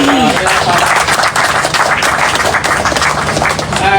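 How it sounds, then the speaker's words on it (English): Applause from a crowd at a community gathering, steady dense clapping held at a loud level throughout, with faint voices mixed in. "round of applause"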